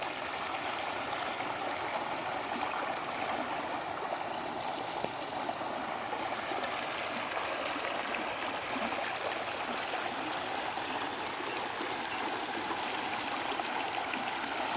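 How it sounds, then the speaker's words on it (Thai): Waterfall near a village, a steady broadband rush of falling water that stays loud and constant throughout with no voices. "เป็นเสียงน้ำตกจ้า"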